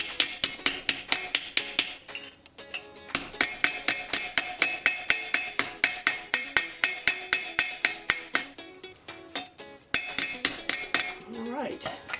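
Copper bracelet ends are hammered flat on a hard surface, sharp metallic strikes repeating in a steady fast rhythm with short pauses, close and loud, with no talk.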